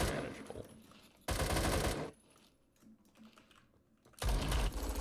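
Rapid bursts of AK12 rifle fire in the Roblox game Phantom Forces: two loud, sustained automatic strings, one early and one at the end, with a dense stuttering rattle and quieter gaps between.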